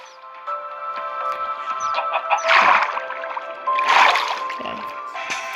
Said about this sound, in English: It's a whole bunch of chickens.